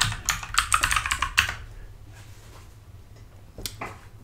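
Typing a command on a computer keyboard while setting up a development environment, a quick burst of crisp key clicks for about a second and a half, then quiet and a final couple of keystrokes.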